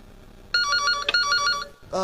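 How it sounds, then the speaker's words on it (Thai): A telephone rings in two loud electronic bursts with a brief break between them, then a third ring starts. No voices are heard. "ขออนุญาตรับโทรศัพท์ก่อน"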